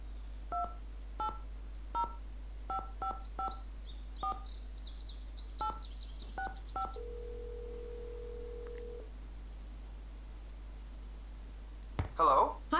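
A phone number is keyed in within the Nancy Drew game Ghost Dogs of Moon Lake: a quick series of short touch-tone beeps, then a steady tone, with faint background music.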